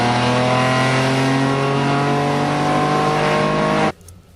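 A Citroën SM with a Maserati V6 engine revs loud and close, a sustained harmonic engine note that holds steady for about four seconds, then cuts off abruptly into near silence.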